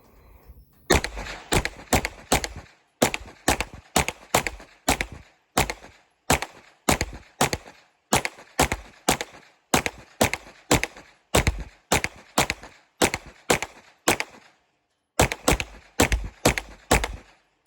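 Gunshots from a G-Force Blade 6 pistol fed by a Glock 19 magazine, sharp reports fired in quick bursts of three to five shots with short pauses between, repeated steadily, loud and without talking.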